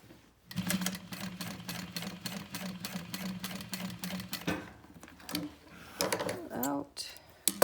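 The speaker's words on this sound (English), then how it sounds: "Sewing just below this cut line." A sewing machine stitches fabric for a sling, running in fast rhythmic bursts of needle clatter that stop and restart several times, close and fairly loud.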